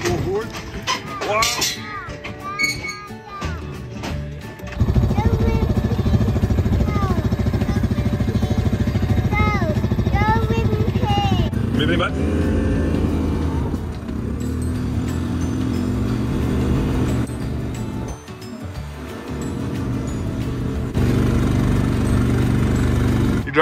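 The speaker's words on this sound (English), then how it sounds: "Driving the tractor, mate?" A tractor engine running on a farm, a steady low rumble that persists throughout at close range, with children's and adults' voices talking over it.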